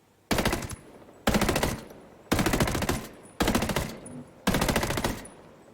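Assault rifle fire in the video game Ghost Recon Breakpoint: five loud, close bursts of rapid automatic shots, each about half a second to a second long, separated by short pauses.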